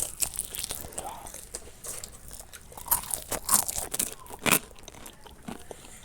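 Close crunchy bites and chewing of fried rondo royal, a fried tapai snack with a crisp shell and soft melting filling, giving loud irregular crackles and crunches, with faint breathy vocal sounds between bites.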